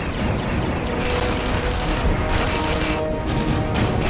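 Shotgun fire in the video game Tribes: Ascend, a dense, continuous barrage of loud blasts and booms that rolls on without pause for the whole stretch.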